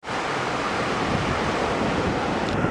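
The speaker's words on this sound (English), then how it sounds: "it is absolutely beautiful at the beach" Steady, loud beach ambience, with ocean surf and gusting wind filling the whole clip as a dense, continuous roar and wind rumble buffeting the microphone, and no voices.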